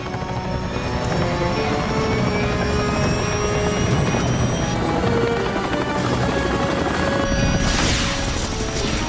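A movie helicopter with a failing rotor and overloaded electronics roars steadily throughout, with dense broadband rotor noise, a high whine cutting in midway, and no speech.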